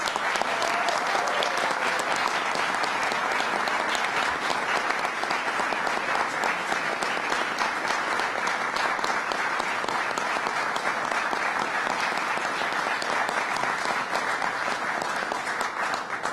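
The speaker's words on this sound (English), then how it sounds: "let's give him a round of applause." A crowd applauds a state senator during the governor's announcement that the Marriage Equality Act has passed, with dense, steady clapping that holds loud and even for the full stretch.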